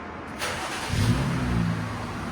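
Jeep Gladiator 3.6L V6 with the muffler deleted, a brief start-up crack followed by a rising, throaty exhaust rev that holds for about a second before easing off, close and fairly loud.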